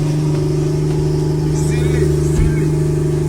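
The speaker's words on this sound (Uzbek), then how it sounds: "Hammamizga shunaqa pishqirib turadigan mashina haydab yurish nasib" Porsche 911 Turbo S engine revving steadily close by, a strong, sustained engine note holding throughout with a brief deeper surge near the end, while a voice talks over it.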